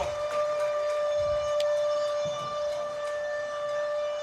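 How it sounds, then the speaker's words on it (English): A stadium siren sounds at the end of a quarter in a high school football bowl game, a steady sustained tone carrying over distant crowd noise for several seconds. "And there goes the siren."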